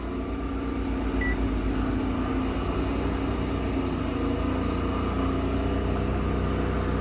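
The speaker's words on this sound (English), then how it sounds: "See if microwave goes" A microwave oven runs off an Engel 3500 W inverter generator, the engine droning steadily under load with a constant mid-pitched hum and no voices.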